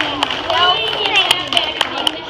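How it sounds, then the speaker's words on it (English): An audience of young writers applauds: a dense patter of close hand claps with a few sharp individual claps standing out, mixed with crowd voices and chatter throughout. "give yourselves a big round of applause"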